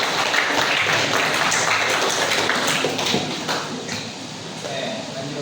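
A classroom of students claps together in a dense, steady patter that keeps going and gradually thins toward the end, with voices mixed in.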